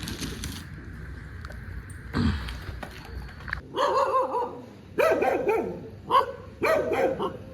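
Several dogs, including a Rottweiler, bark in a series of loud, close barks and yips in bursts, with indistinct background noise in between.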